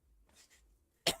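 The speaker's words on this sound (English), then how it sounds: "still got this fucking annoying cough" A single sharp, loud cough from a man preparing for the 6 Hours of Spa hypercar race, bursting out near the end after a stretch of quiet breathing and faint murmurs.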